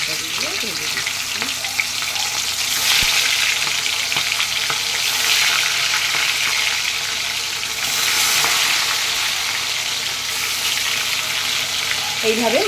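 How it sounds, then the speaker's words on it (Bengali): Pieces of bhangar fish and vegetables crackle and sizzle in hot oil, a loud steady spattering close by that swells and eases a few times, with faint utensil taps. "আবার আমি মাছ ছেড়ে দিচ্ছি আর তরকারিগুলো ভেজে দিচ্ছি"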